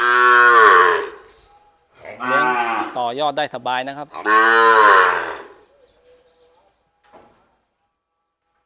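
Young cattle newly arrived at a Thai cattle dealer's yard moo loudly and close: one long call, a pause, then a longer wavering call, followed by faint trailing sounds.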